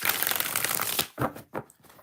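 Tarot cards shuffled by hand at close range: a continuous dense riffle of papery card noise for about a second, followed by two short separate bursts of shuffling.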